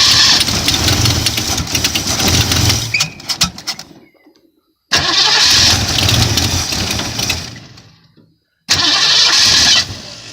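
A 1977 Ford Mustang engine cranks in three loud, close bursts separated by silences, sputtering and catching briefly and then dying each time, as if flooded.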